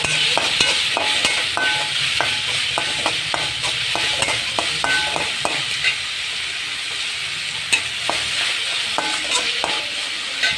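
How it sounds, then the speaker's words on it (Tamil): Tomatoes sauté in a pan for an eggplant thokku, under a steady sizzling hiss, while a spoon scrapes and taps against the pan in repeated close strokes, with no talk. "தக்காளி நல்லா வதங்கணும் நல்லா வதங்கிடுச்சு"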